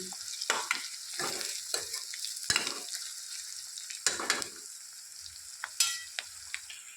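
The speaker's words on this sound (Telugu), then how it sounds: "ఇలా అల్లం కలిసిపోయే వరకు కలుపుకోండి" Ginger is stirred into frying bottle gourd curry, giving a soft sizzle under scattered scrapes and knocks of a spoon against the pot, fairly quiet and close, with no one talking.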